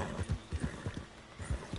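Horse hooves clip-clop at a steady walking rhythm in Red Dead Redemption 2, fairly close and moderately loud, with no talk over them.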